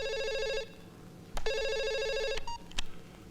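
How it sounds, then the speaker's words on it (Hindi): A telephone in a Bollywood comedy film rings in two bursts of bright electronic trills. A short gap separates them, and a couple of sharp clicks and knocks follow. No one talks. "फोन आएगा"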